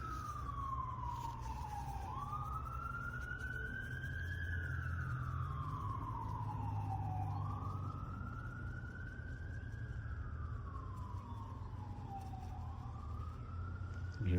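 Distant ambulance siren wailing in slow, repeated rising and falling sweeps, faint in the background over a low steady rumble.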